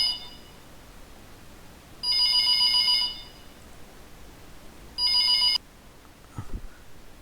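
A telephone rings twice, each a loud electronic trill of about a second, separated by a quiet pause, in an otherwise silent room with a faint rustle at the end.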